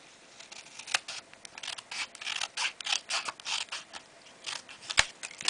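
Scissors trimming white paper where it overhangs DSP (designer series paper) on a 3D sleigh ride home decor craft: a close series of crisp snipping and crunching cuts with small clicks, fairly steady, and no talk.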